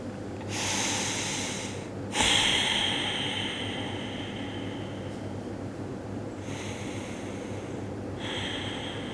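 Soft breath released while folding forward in a bedtime yoga routine: a couple of gentle airy exhales with quiet gaps between them, close and calm over a faint hiss.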